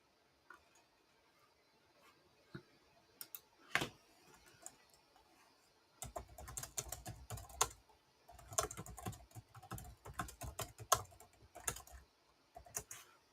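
Someone types on a computer keyboard while working in SolidWorks CAD software, with sparse isolated key taps at first and then a rapid, irregular run of clicky keystrokes, close and fairly quiet, with no one talking.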